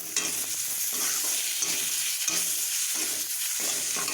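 Ground spices, salt, turmeric and tomato fry in a pan for a Bengali lau ghonto while being stirred, a dense continuous sizzle broken by rhythmic scraping strokes, close and fairly loud, no voices.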